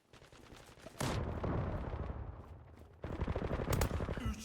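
Rapid bursts of automatic gunfire in the online shooter Zula, loud and close, one sustained volley followed after a brief lull by a second heavy burst, with no talking.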